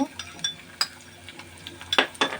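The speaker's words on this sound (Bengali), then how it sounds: "ডাবলি বুটটা সেটা আমি দিয়ে আমি ভালো মতো নাড়তে থাকবো" Boiled chickpeas being stirred into browned onion, green chili and salt in a cooking pan for samosa filling, with scattered clinks and scrapes of a utensil against the pan and a soft sizzle beneath.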